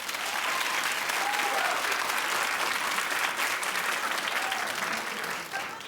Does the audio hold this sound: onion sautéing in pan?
no